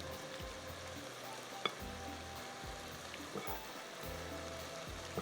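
Onion frying in a pan gives a faint, steady sizzle with soft low thumps of stirring every second or so, with no talk.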